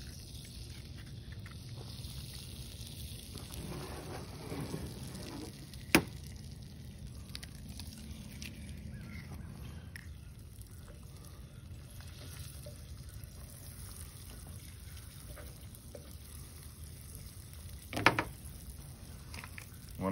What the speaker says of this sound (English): Yeah, that pan is really hot. Go ahead and put the eggs in there now.